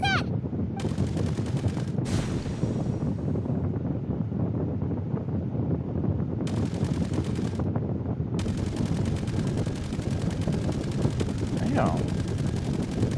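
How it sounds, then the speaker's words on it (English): Rapid gunfire in the Genshin Impact event Clink Clank Clash, dense continuous bursts of shots running the whole stretch with wind-like rushing noise, loud and close, with brief voice under the fire. "Whatever it is, it doesn't look friendly."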